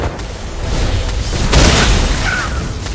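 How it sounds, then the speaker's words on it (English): A turret blowing up in a video game, a loud booming explosion with a heavy low rumble that swells midway and lingers, alone without talk. "You destroy the turret."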